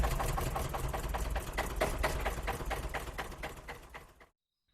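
A tractor engine chugs in a fast, rhythmic pulse, running close and steady before cutting off abruptly near the end.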